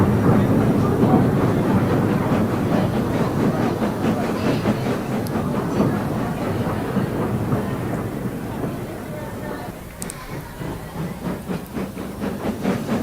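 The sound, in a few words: heavy goods train moving away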